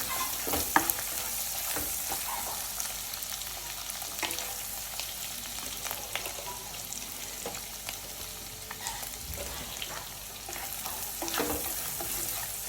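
Potatoes and spices sizzling in hot oil for a Gujarati tempering, a steady hiss with intermittent stirring scrapes and occasional clinks of a utensil on the pan, moderately loud and close with no speech.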